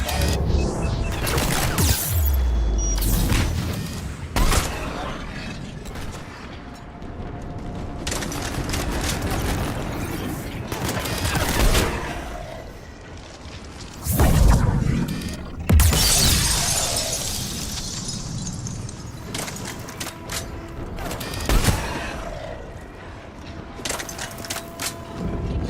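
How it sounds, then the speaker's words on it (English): Phalanx missile launches and explosions in Mass Effect: Legendary Edition come as a chaotic stretch of mechanical clanks, crashing impacts and shattering bursts, with deep rumbling blasts and hissing debris, loud and close throughout. "We're prepping Phalanx missiles."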